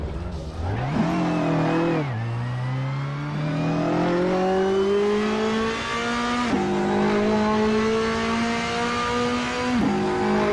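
Race car engine on a fast lap in the video game Assetto Corsa, a loud, steady close-up drone that climbs in pitch through each gear, with sharp drops at the shifts, running continuously with no talking.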